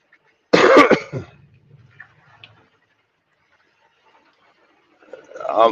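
A person coughs and clears their throat: one harsh, loud cough burst close by, followed by a quieter raspy tail and near-silence, then another cough beginning at the end.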